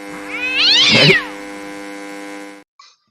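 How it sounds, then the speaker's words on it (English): A house cat lets out one drawn-out, rising and falling meow close by, over a steady electrical hum that cuts off shortly after, followed by a faint brief sound. "there's my cat"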